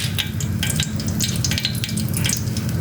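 Curry leaves, cinnamon and cloves frying in a cup of oil in a deep pot, giving a loud, dense, crackling sizzle with constant popping spatters and no talk.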